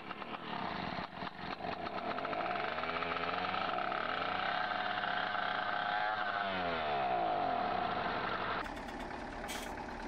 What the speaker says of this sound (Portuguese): Vamos ligar o motor.